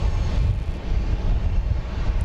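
A Southwest Airlines jet departs Dallas Love Field with a loud, steady, rumbling engine roar that holds throughout, with no voices.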